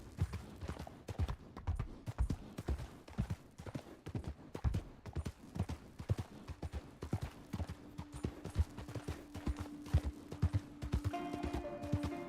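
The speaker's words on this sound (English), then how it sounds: "But just like the sound of the horse galloping with the nature sounds, I love it." A horse in Red Dead Online gallops at a steady pace, its hoofbeats thudding in a fast, even rhythm over soft outdoor nature ambience. Near the end a faint tone and musical notes rise beneath the hooves.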